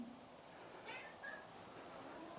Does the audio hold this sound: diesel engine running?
no